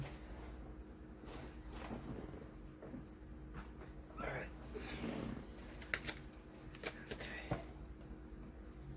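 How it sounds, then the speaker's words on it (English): Tarot cards spill out of a hand and are gathered back up, giving papery shuffling bursts and sharp little slaps and clicks over a faint steady background hum. "All my cards are falling."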